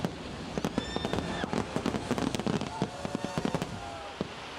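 Fireworks bursting at a virtual Mickey's Not-So-Scary Halloween Party, a rapid run of sharp pops and crackles with whistling rockets rising, loud and continuous over a crowd murmur.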